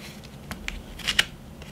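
Scissors snip through a paper fringe cut from a snack box, giving a few quick, close, crisp cuts in an uneven rhythm.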